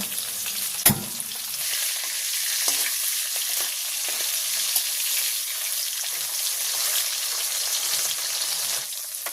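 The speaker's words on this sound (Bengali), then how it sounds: "বাকি মাছটা দিয়ে দিচ্ছি। এরপরে মাথা ভাজি করব।" Pieces of hilsa fish fry in hot oil in a pan, giving a close, continuous crackling sizzle with occasional sharper pops and a brief clatter near the start.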